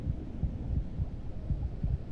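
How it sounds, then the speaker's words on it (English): A heartbeat sound effect: a steady run of deep, soft thumps about every three quarters of a second, close and alone over a low rumbling hum. "the only sound you can hear is your own heartbeat and the sand granules beginning to drain"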